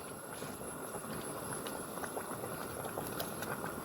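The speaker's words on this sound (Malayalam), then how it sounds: "ഇനി ഗ്രേവി ഒന്ന് നല്ലപോലെ തിളക്കട്ടെ അപ്പോൾ നമ്മുടെ ഗ്രേവി നല്ലപോലെ തിളച്ചിട്ടുണ്ട്" Dried headless sardine curry gravy boiling in a pot, a steady dense bubbling and popping that stays close and even throughout, with no talk.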